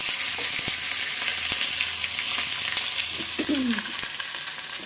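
Dried red chilies and chopped ginger fry in oil, steady sizzling and crackling filling the whole stretch, with a few sharp pops and a brief clatter of stirring near the end.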